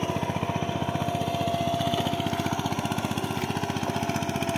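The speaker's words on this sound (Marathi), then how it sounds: "इकडे नाना पण इलो ट्रॅक्टर घेऊन आणि याचो चिखल चालू आहे." A tractor churning mud in a flooded paddy field during rice planting, its engine running steadily with a fast even chugging pulse, close and loud with no talk.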